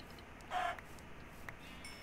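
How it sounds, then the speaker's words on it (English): Chickens in a video game village give a single short cluck, faint and fairly near, with quiet room noise around it. "Oh, I see chickens."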